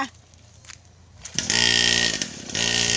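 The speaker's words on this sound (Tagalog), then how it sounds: "Oh, ang galing ng bata magmotor oh." A child's small motorbike engine buzzes and revs in rising bursts, starting faint, then loud and close with a high, raspy whine, briefly easing before revving again.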